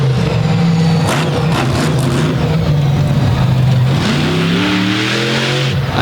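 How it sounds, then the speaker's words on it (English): A monster truck with a Patrick chassis and a 540 cubic inch Kevin Stauffer Chevy engine revs loud and close, its harsh roar rising and falling in pitch over a noisy arena crowd. "The Patrick chassis machine with a 540 cubic inch Kevin Stauffer Chevy engine"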